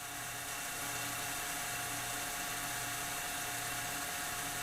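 A DC motor in a motor-generator lab setup runs fast with a steady, continuous high-pitched electric whine and hum, close and loud, unchanged for the whole stretch.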